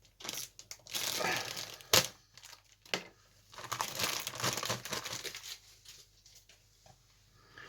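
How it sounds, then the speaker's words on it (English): Plastic bags crinkle and rustle in close bursts as they are crushed and thrown into a bin while a model kit box is unpacked, with irregular loud crumples separated by brief pauses. "fill my bin up with plastic bags."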